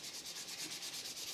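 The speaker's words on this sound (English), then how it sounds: "But if you take some sandpaper, this is just 220 grit" Foam sheet for a model Park Jet being lightly sanded with 220 grit sandpaper, a steady rhythmic rubbing hiss repeating in short strokes, close and fairly quiet, with no talking.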